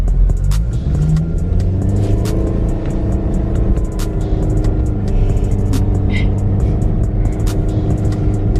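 A car engine revs and accelerates hard while drifting in a parking lot, a loud rumbling roar with rising and falling pitch and sharp transient noises over it.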